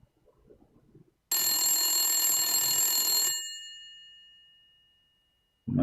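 A single telephone ring, bright and loud, sounds for about two seconds and then fades away unanswered, with brief quiet talk before it.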